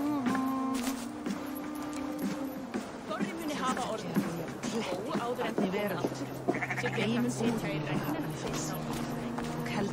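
Sheep bleat repeatedly in Assassin's Creed Valhalla, gathered at a ritual site before a pyre is lit, with several wavering cries overlapping over a steady game soundscape while a voice speaks.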